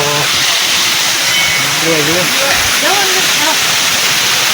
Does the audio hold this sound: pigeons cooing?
no